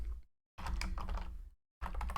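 Close bursts of computer keyboard typing, two quick runs of clicking separated by a short silence, with no talking.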